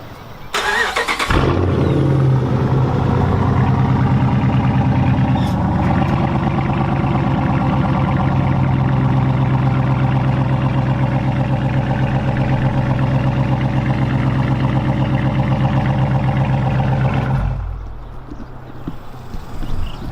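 A Hemi V8 with its mid and rear mufflers deleted idles loudly and steadily up close, a deep continuous burble that keeps going for about seventeen seconds before cutting off abruptly.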